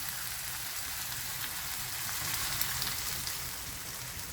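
Water pours steadily into a pot of pork neck and potato stew, a continuous hiss and splash at moderate loudness with no talking.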